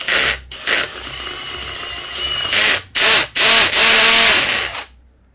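A reverse-action drill grinds at a seized bolt on a barn-find Suzuki Katana motorcycle, a loud, close, continuous whirring bite broken by short pauses and several strained bursts before it spins down to silence.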